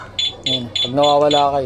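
Gravis V2 motorcycle alarm answering back to its remote with a series of sharp, piercing electronic beeps in quick succession, close and loud, while someone talks over them.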